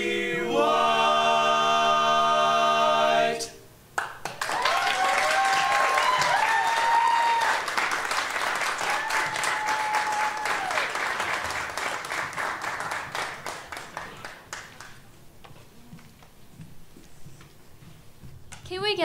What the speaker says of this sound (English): let's get another round of applause for everybody